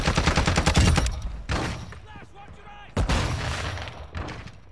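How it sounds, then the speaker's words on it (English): Gunfire in Warzone DMZ: a loud rapid automatic burst up close, then scattered shots and another burst, with people talking over the shooting. "Someone else is shooting at me now."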